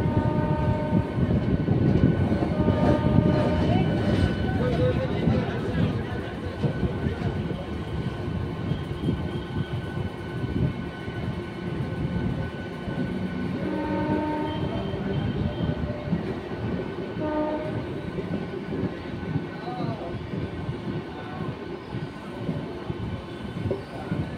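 A local train rumbles steadily along the tracks, slowly turning into Krishnanagar, with constant wheel clatter and rolling noise, loud and continuous throughout.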